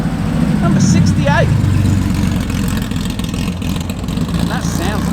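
A Porsche 911 race car in racing livery rumbles steadily nearby at an outdoor car meet, its engine holding a low, throaty drone with slight swells, while people talk and whistle faintly in the background.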